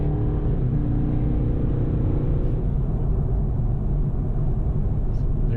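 A 2017 Chevrolet SS sedan with a 6.2L V8 is driven from the cabin, its deep engine rumble steady and droning under the road noise as the car pulls ahead, with no speech heard.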